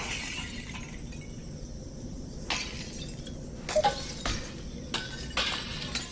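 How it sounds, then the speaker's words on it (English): Glass shatters in the Half-Life: Alyx virtual reality game, a few sharp cracks and tinkling breaks scattered over a steady low hum, fairly faint and spaced apart. "Normally when you break glass, it makes a sound."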